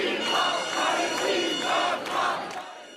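About 200 pro-Palestinian protesters chanting to disrupt a concert: a large crowd shouting in rhythm, rising and falling in regular rolling waves, loud and continuous.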